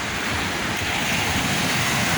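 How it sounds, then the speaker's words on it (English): Close, unbroken surf rushes up a Jamaican beach at night, a loud, even wash of breaking ocean waves heard alone with some wind noise. "Wave of the ocean. I'm right at the foot where it stopped."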